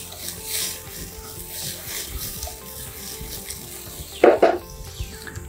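Sautéed vegetables with tomato sauce are stirred in a pan on a stove, giving a soft continuous sizzle with scraping, plus a brief louder clatter of the utensil near the end.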